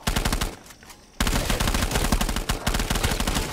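Rapid gunfire from the video game Call of Duty: Black Ops 3 Zombies, dense automatic bursts rattling loudly and almost continuously, broken by a short lull near the start.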